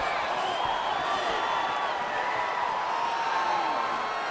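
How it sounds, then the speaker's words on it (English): An arena crowd cheers after the first round of an EA Sports UFC 4 fight, a steady wash of distant roaring and whooping that stays even and continuous throughout. "So the crowd voicing its appreciation after that round"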